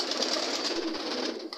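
Pigeons on a Vietnamese pigeon farm fed on corn grain and bran make a dense, continuous chorus of cooing and rustling wing flutter, close and loud, with no talking over it.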